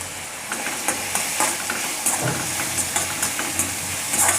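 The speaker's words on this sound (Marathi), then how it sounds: "अशी छान फोडणी करून घेतली" Turmeric and red chilli powder sizzle in hot oil for a tempering, a continuous crackling hiss with repeated scraping strokes of a spoon stirring in the pan, close and fairly loud, no voices.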